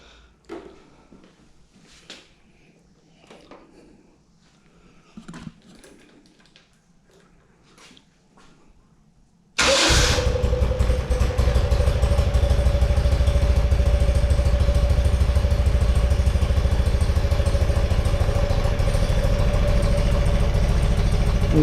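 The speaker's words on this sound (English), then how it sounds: "Time to do a cold start." Quiet clicks and handling, then a 1974 BMW R90S motorcycle engine cold-starts abruptly and settles into a loud, steady idle that runs without pause.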